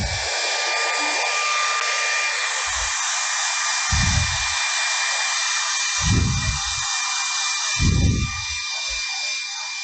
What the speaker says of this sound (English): I'm going to grab me my blow dryer